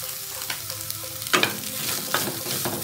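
Egg fried rice with Ching's dark soy sauce stirred and tossed in a hot pan, with close scraping strokes over a steady sizzle that grows louder after the first second.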